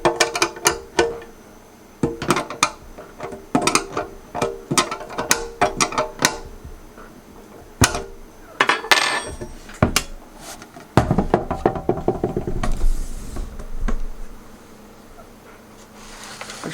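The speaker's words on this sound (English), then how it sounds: "we want to finish off those screws on the back side" Screws are fastened into the back panel of an Allen & Heath Xone:23 DJ mixer during a fader repair, giving close, irregular ratcheting clicks and metallic taps in uneven bursts over a quiet room.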